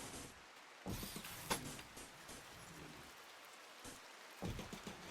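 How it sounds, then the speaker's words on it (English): Rain falls in a colony-building game, a soft, steady patter of raindrops with a few brief louder bursts breaking through now and then. "It's raining."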